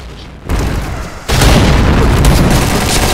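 A grenade explodes in the Point Blank shooter: a loud booming blast lands suddenly, followed by a sustained roaring rumble that stays loud through the rest of the moment.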